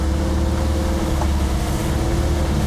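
A small tri-hull motorboat's outboard engine holds a steady drone at about 2,000 RPM, loud and close with water and wind noise, running continuously with no talking.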